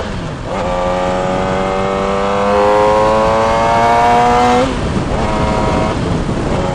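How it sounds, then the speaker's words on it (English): A car engine revs hard to redline in first gear, a loud, close harmonic drone that climbs steadily in pitch for several seconds, peaks, then drops off abruptly and settles back lower. "I just redlined in first gear"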